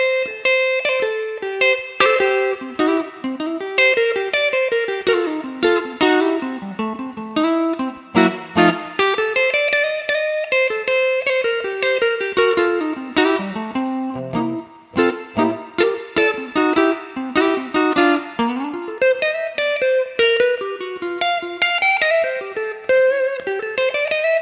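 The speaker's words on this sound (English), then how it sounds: "you end up with that nasally sound, which is basically what's happening here with both pickups on this Ronin" Electric guitar with gold foil pickups wired out of phase and 14-gauge flat wound strings, played as a busy single-note blues lead with a thin, nasal, honky tone, close and moderately loud, no talking.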